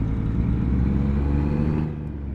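A truck engine in American Truck Simulator revs steadily and loudly, a deep rumbling drone that holds for a couple of seconds before easing off slightly near the end, with no voices over it.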